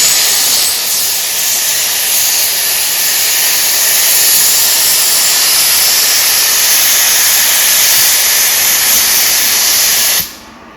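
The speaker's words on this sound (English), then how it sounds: "Takes the water, the hose, all the way up here using the steam pump." Loud, continuous steam hiss from a steam pump drawing water through a hose at a scenic railroad, a steady rushing spray that holds for about ten seconds, then drops away suddenly near the end.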